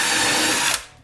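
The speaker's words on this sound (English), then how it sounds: "I've just got this little Milwaukee screw gun, and I'm just going to use it" A small Milwaukee screw gun whirs briefly and loudly while driving a screw into a closet rod bracket, then cuts off abruptly with a short trailing spin-down.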